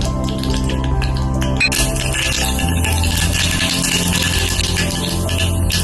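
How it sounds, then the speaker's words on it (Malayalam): Mustard seeds in hot coconut oil in a pan while cooking jackfruit seed and spinach thoran: steady crackling and sputtering with quick irregular pops over a humming background. "എണ്ണ ചൂടായി വരുമ്പോൾ കടുക് ചേർത്ത് കൊടുക്കാം."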